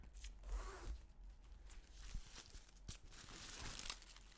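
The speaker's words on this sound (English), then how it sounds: "Has a gold zipper." Gold zipper on a Rothy's Daily Crossbody bag being handled, soft zipping and crinkly rustling strokes, quiet and close with no talk.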